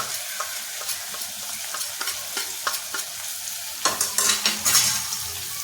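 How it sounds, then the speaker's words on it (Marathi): Bombil fish masala with turmeric stir-fried in a pan, a spoon scraping in a steady series of strokes over a soft sizzle that grows louder and hissier toward the end. "हळद टाकून छान त्याची परतवून घ्यायची."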